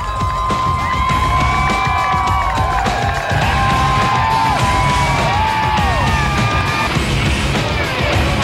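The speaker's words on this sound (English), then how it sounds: "the glorious sound of the fans at the finish" Fans roar and cheer at the finish of the women's Olympic mountain bike race in Atlanta, 1996, a dense, loud crowd din with whoops and shouts sustained throughout.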